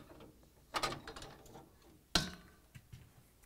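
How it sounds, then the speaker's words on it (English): A freezer basket lifted out of a Whirlpool, KitchenAid or Maytag refrigerator makes two sharp plastic clacks with faint rattling between them, close and otherwise quiet. "So now we're going to lift up and remove the basket."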